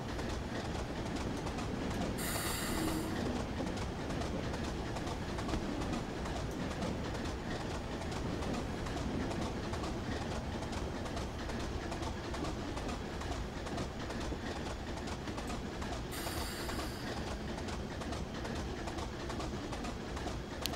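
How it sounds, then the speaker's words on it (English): Train running in the Train Simulator 2021 video game on the Weardale and Teesdale line, a steady rumbling roll with rhythmic clickety-clack that continues throughout, with two brief brighter hissing bursts, and no talk. "I could listen to this train all day."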